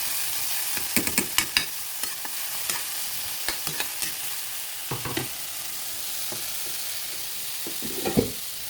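Bitter melon (ampalaya) and garlic fry in a pan, a steady loud sizzle under repeated scraping spatula strokes, clustered near the start and again toward the end.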